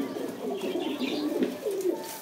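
Domestic pigeons, including a male, coo nearby in a steady run of low throaty murmurs, with faint voices in the background.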